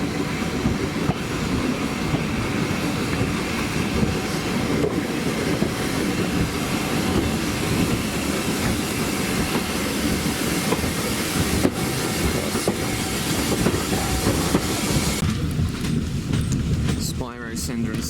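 Steam-hauled train on the Kent and East Sussex Railway, with steady rumble and clatter of carriages rolling along the track, loud and continuous throughout, and a brief shift in the noise near the end.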